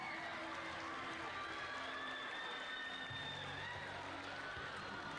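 Crowd applause and cheering in an arena at a FIRST robotics district competition semifinal, a steady wash of distant clapping under an announcer's amplified voice and a hum of background noise.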